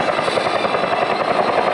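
A CAL FIRE rescue helicopter at the Hemet Ryan Air Show gives off a loud, continuous rotor and engine roar that stays steady and unbroken, with no voices.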